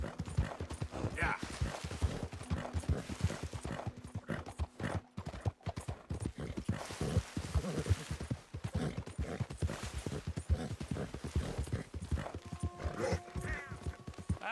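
Steady clip-clop of horse hooves on a hard surface, a brisk repeating rhythm close by, with people talking over it.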